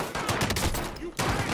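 Gunfire in Call of Duty Warzone, several sharp, loud shots in quick succession, spread irregularly over a brief moment with a short gap before another burst.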